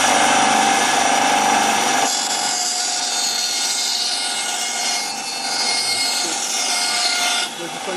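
A bandsaw cuts through timber with a loud, continuous rasping whine that holds steady for the whole stretch, shifting in tone partway through as the blade works the wood.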